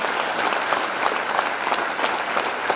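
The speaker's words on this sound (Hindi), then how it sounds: "एक बार सेफ शॉप के लिए भी तालियां बजा दीजिए जोरदार" Loud, sustained applause from an audience at a business speech event, dense clapping that stays steady throughout with a light crowd murmur.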